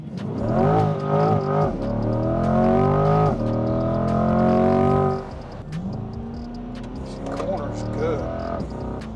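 A 2021 Chevrolet Corvette C8 Stingray mid-engine sports car hums and rises in pitch as it accelerates through gears, steady and close, with a person talking over it.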